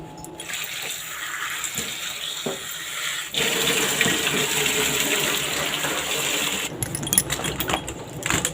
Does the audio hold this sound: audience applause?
no